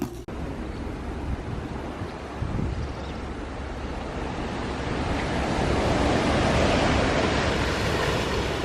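Ocean surf rolls steadily onto a Hawaiian beach, a broad continuous wash of breaking waves that builds louder toward the end, with some wind buffeting the microphone and no voices.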